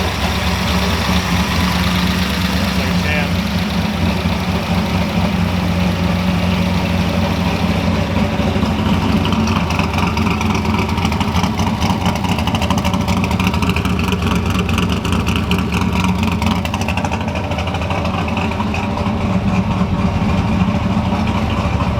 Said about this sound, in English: It's idling at like 1100.